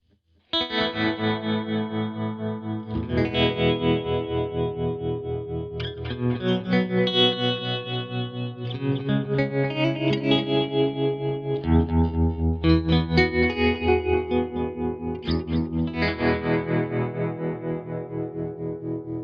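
Ambient electric guitar played through saturation and feedback delay effects, sustained chords and swelling notes with a chorused, slightly distorted shimmer, alone and steady.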